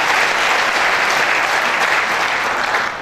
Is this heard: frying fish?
no